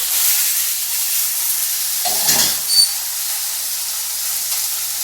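Shrimp frying crisp in a pan: a steady, loud sizzle and hiss runs throughout, with a brief stir or shift of the pan partway through.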